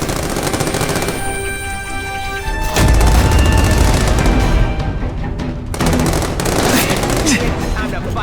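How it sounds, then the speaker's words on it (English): A seismic blast attack in The Amazing Spider-Man 2 video game erupts as a loud, rumbling burst of crashing, gunfire-like impacts, swelling midway and continuing densely under game noise with voices. "Neither does the seismic blast."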